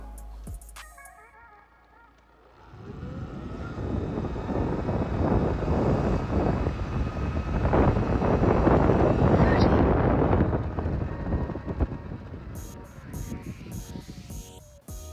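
A stock Surron electric dirt bike on a drag run, its motor whine rising from quiet into a loud, sustained rush with wind noise for several seconds before fading off.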